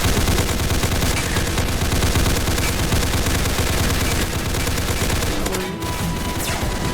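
Rapid bursts of laser gunfire in the Roblox game Darkdriver, a dense continuous barrage of shots from start to finish, loud and close.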